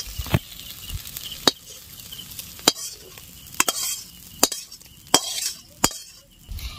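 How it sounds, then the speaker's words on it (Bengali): Cooked tomato mixture poured into khichuri in a pot and stirred, a soft background sizzle broken by repeated sharp clinks and scrapes of a spoon against the pot at irregular intervals. "এই দেখুন এটা এবার ঢেলে দিব আমি।"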